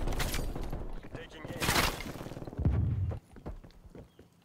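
Gunfire from a newly acquired gun in the video game Call of Duty Black Ops Cold War, a burst of loud rapid shots with dense crackling, mixed with game noise and some talk.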